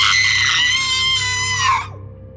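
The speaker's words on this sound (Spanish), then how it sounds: "un grito que provenía de la parte alta del edificio" A girl's terrified scream rings out from the upper floor of an abandoned orphanage building, one sustained high shriek lasting nearly two seconds before cutting off with a brief falling tail, loud over a faint low background hum.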